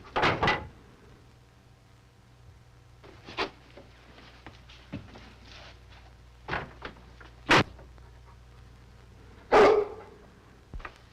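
A dog barks outdoors near a cabin in the Yukon, several sharp, loud single barks spaced irregularly over a low steady hum, with no talking.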